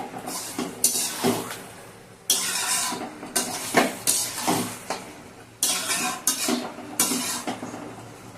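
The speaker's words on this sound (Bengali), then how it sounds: "এটা হলো একটুক্ষণ মিক্সিং করা হতে থাকবে।" Chicken curry stirred and mixed in a hot pan, the spoon scraping and clattering in repeated strokes over a steady sizzle, close and loud.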